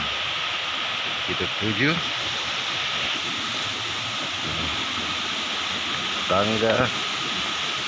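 The Lodovavo waterfall in Lembata, NTT, gives off a steady, broad rushing roar, while people talk briefly over it.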